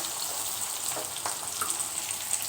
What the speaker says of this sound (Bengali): পেঁয়াজ মরিচ ভালো করে ভেজে নেব।